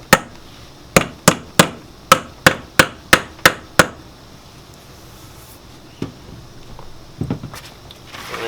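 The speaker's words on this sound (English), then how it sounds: "So we're just going to hammer those down in." Ten sharp, evenly spaced hammer blows drive tacks down into cross straps, loud and close, followed by a few scattered taps and handling noises.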